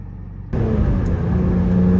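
A BMW E46 M3 on Michelin Pilot Sport 4 S tires is driven hard through a bend, its engine note jumping to a loud, sustained rumbling drone close to the car.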